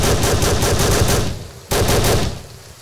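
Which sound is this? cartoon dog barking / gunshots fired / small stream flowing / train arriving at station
gunshots fired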